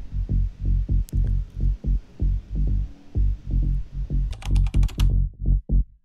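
Punchy, deep layered Latin house synth bass notes pulse in a rhythmic groove, with bright percussive hits joining near the end; loud and up front.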